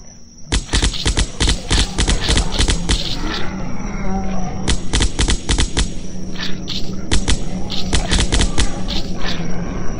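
Assault rifle fire in the Zombocalypse flash game, several rapid bursts of sharp, loud shots with brief pauses between volleys, alongside growling zombie-like roars.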